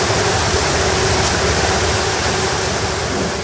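Water surges steadily through a banana washing tank on a Zambian farm. The current makes a loud, even rushing wash like a small waterfall, filling the whole moment with no voices.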